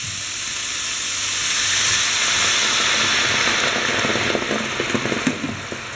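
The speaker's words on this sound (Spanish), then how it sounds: "cuando hayan cogido color, echamos el vinagre" Vinegar hits a hot pot of browned lamb and sets off a loud, steaming hiss and sizzle. It swells quickly, holds steady, then breaks into crackling spatters as it settles.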